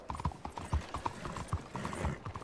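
Horse hooves clip-clopping at a steady walking pace in the Red Dead Redemption 2 video game, close and rhythmic with faint mechanical clinks.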